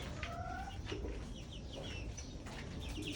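Hybrid chickens cluck and chatter nearby over a constant low rumble of background noise, several birds calling in short overlapping bursts.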